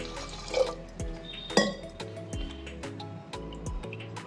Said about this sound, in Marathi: आता 2 वाट्या आपण पाणी ह्याच्यात घालून घ्यायचं आहे।